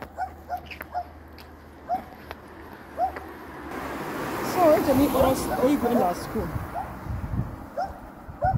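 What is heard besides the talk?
dog barking and whimpering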